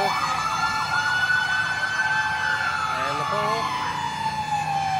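Fire truck sirens wail in overlapping rising and falling tones as the trucks arrive at a house fire on Gawin Road, loud and close with engine rumble beneath, while a voice speaks over them.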